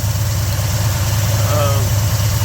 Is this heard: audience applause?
no